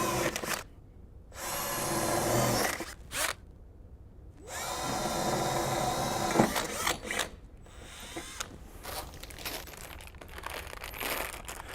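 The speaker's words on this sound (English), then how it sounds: "go ahead and drill into the metal." A power drill whines in several bursts, biting into metal with a harsh, grinding screech, separated by short pauses and handling clatter, while installing a commercial door closer; the bit gets bent.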